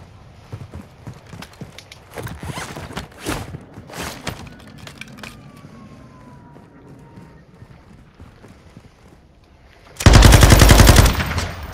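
In Call of Duty MWII, scattered distant shots and thuds give way after about ten seconds to a loud, close burst of rapid automatic gunfire that lasts to the end.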